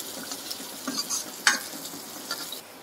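Onions, curry leaves and dried red chillies are sautéed in a pan, with a soft sizzle under intermittent stirring scrapes and one sharp clink partway through.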